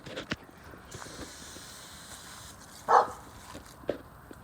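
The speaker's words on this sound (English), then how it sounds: "you barking at the wasps?" A dog barks at wasps outdoors, a single loud bark standing out near the middle amid low background noise and scattered small sounds.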